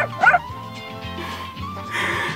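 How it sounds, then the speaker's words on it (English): A dog barks and yips in a short sound effect, one sharp bark followed by whining, whimpering yelps, close and moderately loud with no speech. "the sound of a dog barking"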